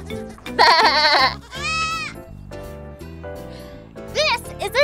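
A goat bleats several times, wavering cries separated by short pauses, over a light musical backing; the calls are close and fairly loud.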